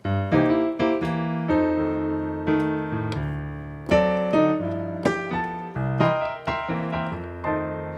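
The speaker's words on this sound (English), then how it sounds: "here's what 7th chords sound like" Piano plays a series of rich four-note dominant seventh chords, struck one after another with some ringing out, close and moderately loud with no voices.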